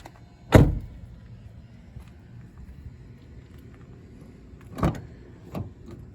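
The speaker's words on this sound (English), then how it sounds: "I'll shut the door." Door of an Infiniti QX80 SUV shutting at night: one solid near thump, followed by two softer thuds a few seconds later over quiet cabin hum.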